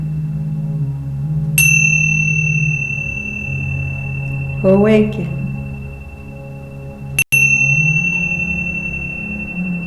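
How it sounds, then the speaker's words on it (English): Tingsha bells strike twice, each a bright, clear ring sustaining for several seconds, during a gentle yoga session. A voice speaks softly between them. "Awaken to the sound of the tingsha bells."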